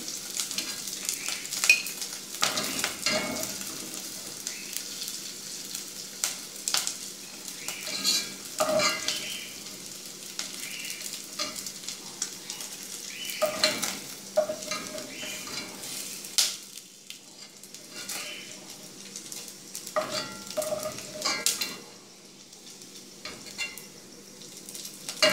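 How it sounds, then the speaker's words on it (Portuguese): Fried bacon sizzles in a pan at a moderate level while pieces are scooped out, with repeated scrapes and clinks of a utensil against the pan. "meu bacon já está fritinho. Agora eu vou retirar ele daqui."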